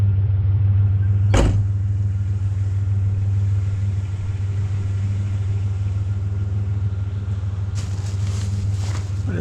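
A car driving slowly while out collecting scrap metal from the trash, a steady low engine rumble throughout with a brief sharp knock early on and rattling near the end, no talk.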